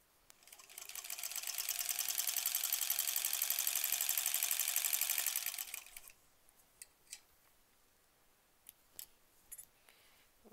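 A sewing machine stitches basic quilt blocks in a loud, continuous rapid run of about five seconds, then stops, leaving quiet clicks and small handling noises.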